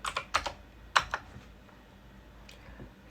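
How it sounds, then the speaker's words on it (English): Short bursts of typing on a computer keyboard as a number is entered in SolidWorks CAD software, a few quick clustered keystrokes early on, then quiet room tone. "So we're going to type in 50"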